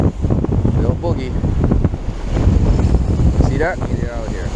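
Wind gusts hard across an open boat while drop-line fishing near a reef, a loud steady rush of microphone buffeting with someone talking over it.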